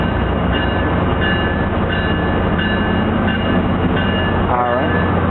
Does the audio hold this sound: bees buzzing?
no